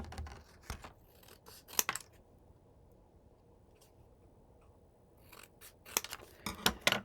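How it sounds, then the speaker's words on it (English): Scissors snip through stiff cardstock in quick bursts of sharp crunching cuts, then a quiet pause, then more rapid snipping close by. "I'll just use my scissors"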